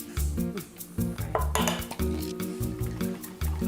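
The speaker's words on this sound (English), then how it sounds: "Deglaze the pan. Get all those really crusty bits from the meatballs." A spoon scrapes and stirs in a meatball pan being deglazed with red wine, rhythmic metallic scraping and clinking strokes at close range over a faint simmering sizzle.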